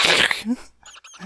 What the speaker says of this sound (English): That is the sound of crunching bone.